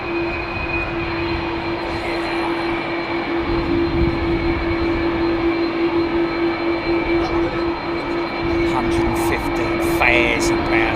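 A large jet airliner at Heathrow Airport, its engines rated at 115,000 pounds of thrust each, holds a loud, steady roar and whine through the evening departure, with a bright sustained tone and occasional people talking nearby.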